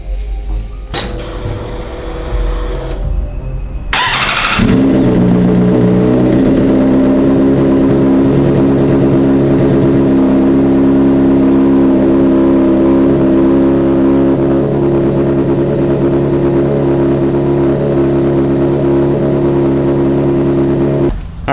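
A 2018 Honda CBR 600RR motorcycle starts up and settles into a steady idle, a loud, close, even engine hum that holds without change for about sixteen seconds.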